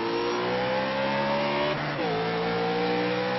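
A race car engine droning steadily in a sim racing game at Martinsville Speedway, the pitch dropping briefly as it downshifts into a corner before holding a new tone, loud and continuous, no talk.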